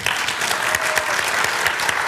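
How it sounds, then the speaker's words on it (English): Audience at a library panel event applauding the panelists, dense and loud clapping from a full room, steady throughout with no talk on top. "would you join me in applauding our two panelists?"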